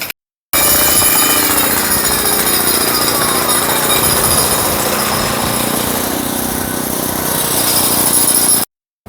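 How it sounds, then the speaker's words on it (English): Loud, continuous street construction in New York City, with a jackhammer-like pounding and engine roar filling about eight seconds between abrupt cuts; no talking. "in traditional New York City fashion, there's always construction happening all the time. So it's gonna get loud."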